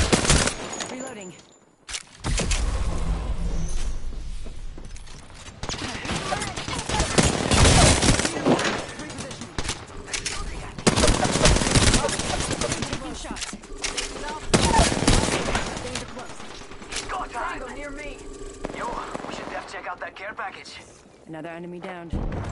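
Rapid bursts of automatic gunfire and single shots from the Apex Legends battle royale game, loud and close, clustered in several volleys with short gaps, mixed with game voice prompts and effects.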